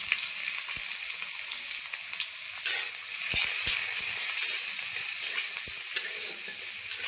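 Chopped onions sizzle and fry in a pan with garlic, a steady close hiss of hot oil running throughout with a few soft knocks of stirring, no talking.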